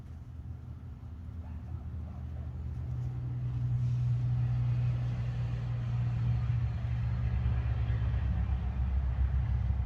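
An old Ford L9000 single-axle truck drives by: a low diesel rumble builds up and holds for several seconds as it passes fairly close, with faint voices in the background.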